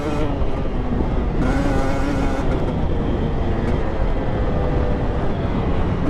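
A 2020 Husqvarna TE300i dirt bike running a lap, its engine a loud, continuous rough drone with shifting pitch, heard close throughout with no talk over it.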